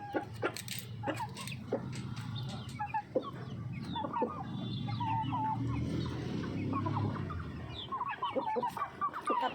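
Laying hens cluck and cackle repeatedly in a coop where one hen breaks and eats another's egg, with busy, close calls over a low background hum.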